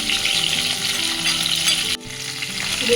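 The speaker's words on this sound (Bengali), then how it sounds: "এটার মধ্যে আমি এবার জল দিচ্ছি জল দিয়ে মিশিয়ে নিচ্ছি মশলাটা" Fried spice paste for Bengali katla fish curry is stirred in a pan with water mixed in: a loud, busy sizzle dips sharply for a moment, then carries on as stirring continues.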